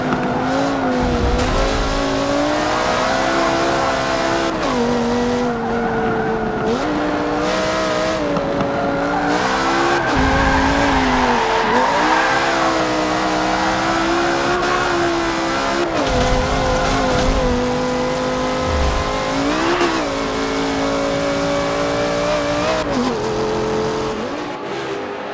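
A race car engine and exhaust in Forza Motorsport 7 roar loudly and continuously, revving up and dropping through gear shifts with brief tire squeals and a steady rushing drone.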